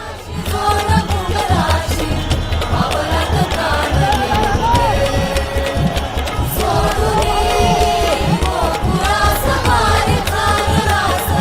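A dense, loud crowd fills the street at the Lalbaugcha Raja Ganpati immersion in Mumbai, with steady shouting and chanting voices and a pulsing rhythmic drumbeat underneath throughout.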